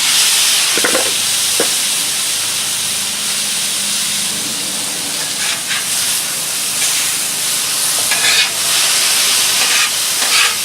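Zucchini noodles hiss and steam loudly on a hot Blackstone flat-top griddle beside pork chops, a steady close broadband sizzle with a few brief scrapes and no talking.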